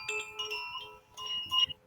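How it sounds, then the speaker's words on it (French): A chime-like relaxation instrument rings with bright, sustained tones in two separate strikes, the second after a short pause, close and clear, with no talking. "C'est beau ça, hein? C'est comme un carillon."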